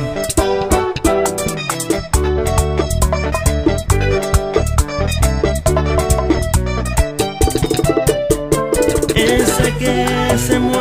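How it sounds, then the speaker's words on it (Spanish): A guitar plays loud, busy, rhythmic strumming inside a full Latin pop band mix. It is dense and continuous, with percussion and bass driving underneath. "Edwin, Edwin, y la guitarra mía suena así."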